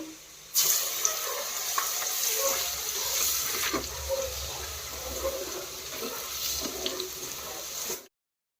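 Garlic paste frying in hot oil in a pan while making tomato pickle, a steady soft sizzle with occasional stirring scrapes, close and continuous, with no talk.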